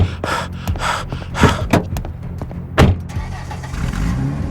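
A car in a horror audio drama: a steady engine rumble with several sharp door thumps and slams scattered over it, close and fairly loud, with no speech.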